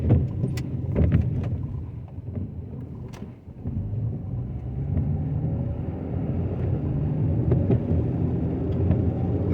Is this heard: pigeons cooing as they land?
no